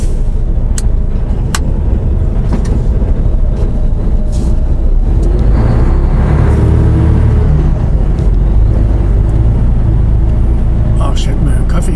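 Car pulling away after a rest stop, a loud close rumble of the engine and road noise building under someone talking throughout.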